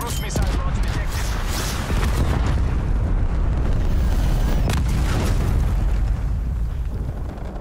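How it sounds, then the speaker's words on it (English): A cruise missile strike in a shooter game, a sustained, heavy rumbling blast with rolling booms and crackling debris that fills the whole stretch loudly before easing slightly at the end. "Enemy cruise missile launch detected."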